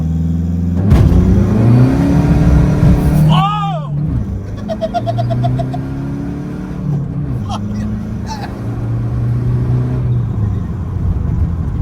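Engine of a heavily modified VW Beetle roaring through a hard launch and acceleration, with rising pitch sweeps as it pulls and shifts, loud and close under continuous talk from occupants.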